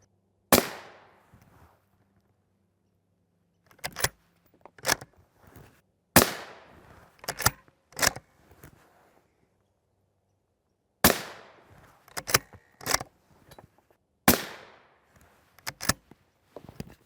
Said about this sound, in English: our 22 Creedmoor shots, number 1, 2, and 3